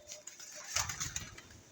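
A pigeon, one of a large flock of birds, gives a brief soft coo at close range amid faint background noise.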